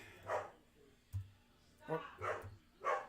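A dog barks in a home during a live baseball reaction, four or five loud, sharp barks in an uneven series, with a little low background sound between them.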